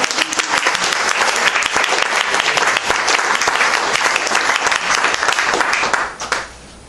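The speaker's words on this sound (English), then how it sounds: "You can clap." An audience at a poetry reading breaks into dense, sustained clapping that fills the room for about six seconds, then fades out abruptly.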